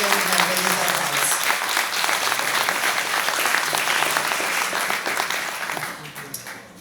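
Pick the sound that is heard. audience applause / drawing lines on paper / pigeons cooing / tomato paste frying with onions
audience applause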